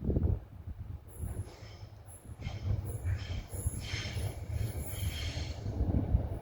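A train passes through Arden Station with a muffled rumble and intermittent high squeals and hisses from the wheels, moderately near over several seconds.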